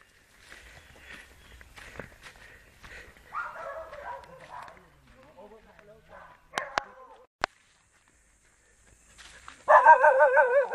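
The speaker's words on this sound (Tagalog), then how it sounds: "May aso." A dog barks in short bursts outdoors during a Batangas fiesta walk near the sea, with a second dog apparently involved in a scuffle. Footsteps and talk fill the background, and louder yelping comes near the end.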